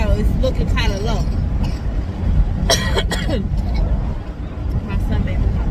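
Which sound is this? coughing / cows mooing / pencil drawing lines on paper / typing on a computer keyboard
coughing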